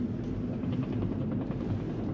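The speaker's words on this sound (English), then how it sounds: "That was a helicopter." A helicopter passes overhead while driving near Niagara Falls, Canada, a steady low rotor rumble that stays fairly loud and even throughout, with no talk.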